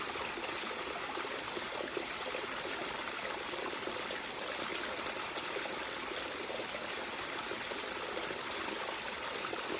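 A mountain stream trickles and splashes over rocks on a trek near Tiruvannamalai, a soft, steady, close-up flow of water with no voices.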